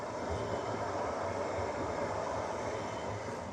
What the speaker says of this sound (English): Oh, look, a tram.